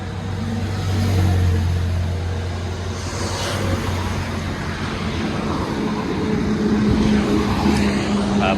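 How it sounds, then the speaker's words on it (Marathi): Steady traffic roars along the Mumbai–Ahmedabad highway, a continuous dense rumble of cars and trucks with vehicles swelling past now and then, heard close by and without talk. "हा बघा मुंबई अहमदाबाद हायवे"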